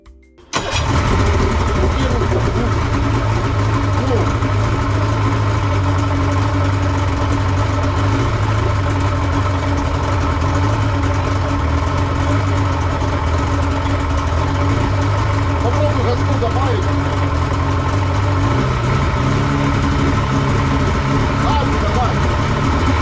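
The restored engine of a 1998 Sun Tracker pontoon boat starts after a brief pause and settles into a steady, droning idle for the rest of the stretch, loud and close, with a slight change in pitch near the end.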